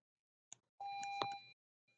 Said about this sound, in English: Sorry for the beeping noise in the back.